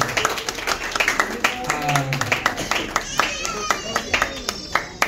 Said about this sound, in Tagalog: isang malakas ang palakpak muna sa Lord